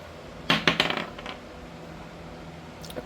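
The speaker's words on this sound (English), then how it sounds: "we're gonna roll the Astro Dice 3 times" A set of astrology dice is rolled during a tarot reading, giving a quick run of clattering knocks and bounces over about a second before settling, followed by quiet room tone.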